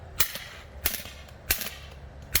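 A Drozd BB gun fires four sharp, loud snapping shots spaced roughly evenly apart, close by, each with a brief tail, no talk over them.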